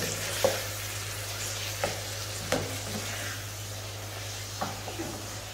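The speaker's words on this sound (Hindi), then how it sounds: "अब इसकी हम भुनाई करेंगे" Mutton liver masala roasting on a tawa, a constant close sizzle and hiss broken by a few sharp scrapes and taps of stirring.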